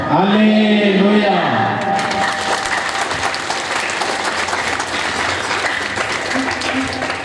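A church congregation at a parish priest's ordination claps loudly and steadily together, dense sustained applause with voices mixed in, following a sung or chanted phrase at the start.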